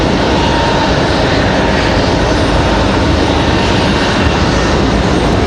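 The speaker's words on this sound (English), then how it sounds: "Breeze Moxie 745 touching down over there, that A220 300" A Breeze Airways Airbus A220-300 jet touching down at Raleigh-Durham International Airport, heard as a loud, steady broadband engine roar that fills the whole moment without a break.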